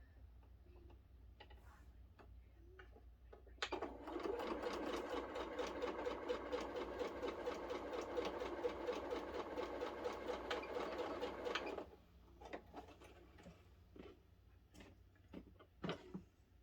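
Sewing machine stitching a quilt block, a fast steady mechanical whirr of rapid stitches running for several seconds, then stopping, followed by a few scattered clicks and handling sounds.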